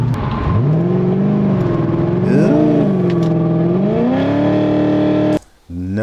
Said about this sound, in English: No, that is not a Honda Civic. That is my Corvette.